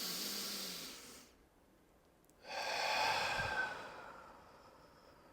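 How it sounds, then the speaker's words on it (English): A deep clearing breath drawn in through the nose, then a longer, louder exhale pushed out through the open mouth after a brief pause, close and breathy with no talking. "breathe in fully in through the nose. Open mouth, exhale."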